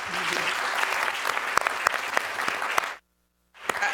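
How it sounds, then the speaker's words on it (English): Steady applause from a crowd after a panel discussion, with a few sharper claps standing out, then a brief silence before the clapping resumes. "A hand of applause."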